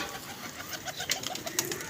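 A club pigeon cooing softly, low and faint, with a few small flutters and clicks in the background.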